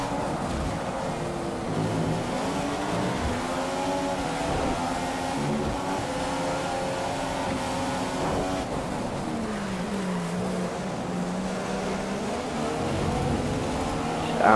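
F1 race cars in the PS4 game F1 2015 at the Canada circuit, engines droning and shifting pitch continuously as they battle for position, with steady, fairly loud revving throughout.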